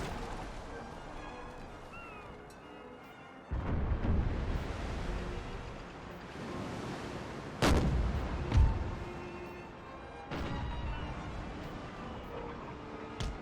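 Ship cannons fire in an Empire Total War naval battle with Imperial Splendour, heavy booming broadsides arriving in several loud bursts over a rumbling sea-battle backdrop.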